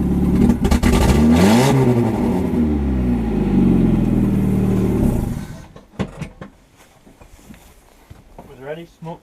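A car engine with a new mock-up exhaust revs hard and loud for about five seconds, rising and falling in pitch, then cuts out as people talk nearby.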